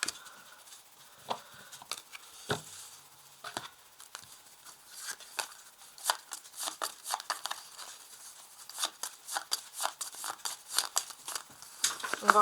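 Four tarot cards are drawn from a deck, producing a run of soft, rapid card flicks, slides and crinkly shuffling taps up close that grow busier toward the end.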